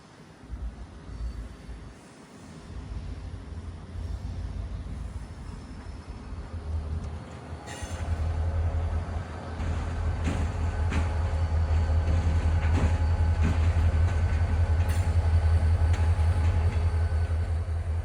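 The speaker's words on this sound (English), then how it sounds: "we can hear the horn of GP40-2 number 411 as it's about to come around these Ortner hopper cars" A Florida East Coast Railway GP40-2 diesel locomotive moves past Ortner hopper cars in a rail yard in Ormond Beach, a steady low rumble that grows louder and heavier over about eighteen seconds, with faint clanks and no voices.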